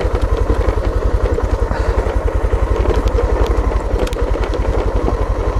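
A Suzuki XF 650 motorcycle with a DR650 single-cylinder engine runs steadily on the road, its loud, even, rapid thumping close and continuous, with no talk over it.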